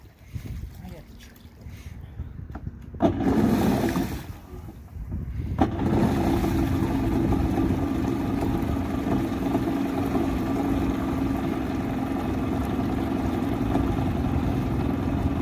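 Rebuilt Kawasaki JS550 jet ski engine running steadily and loudly near the water, with a brief lull before it picks back up into a sustained drone; voices talk over it.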